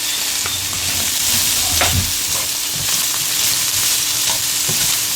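Seasoned chicken coated in garlic powder, roasted garlic, onion powder and Italian seasoning browns in a pan, giving a steady sizzle with occasional scraping stirs, close and alone without talk.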